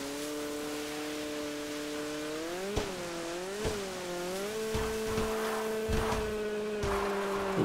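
A vehicle engine hums and revs in a GTA game, its tone rising and falling with sharp clicks and small bumps along the way, then holding a steady drone as it arrives.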